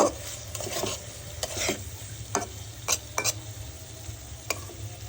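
Dried chela fish stir-fried in a pan, with faint background sizzle and a series of sharp, irregular scrapes and clinks from a utensil against the pan, heard close and alone.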